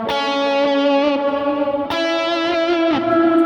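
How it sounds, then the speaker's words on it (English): Electric guitar played one sustained distorted note at a time in a worship rhythm style, rich in harmonics and effects, with two fresh picks restriking the note, loud and alone. "So instead of playing a single note like this,"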